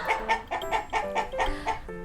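A chicken clucks in a quick rhythmic series of about eight short, nasal calls, close and clear, with no voices.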